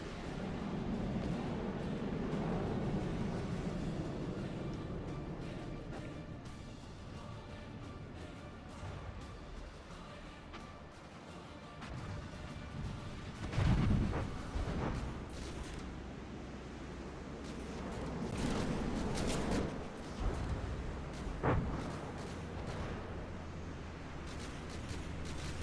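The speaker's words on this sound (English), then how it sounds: "Oh, and there goes the turret." Turret destroyed by gunfire during a monitor battle match in a video game: dense, roaring explosion-like noise fills the clip, with a sharp louder burst midway and more blasts and rumbling afterward.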